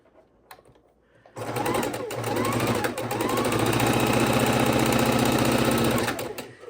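A sewing machine stitching camouflage fabric scraps for a quilt corner runs steadily and loudly for several seconds after a brief quiet start, with a rapid mechanical hum and rattle close to the microphone.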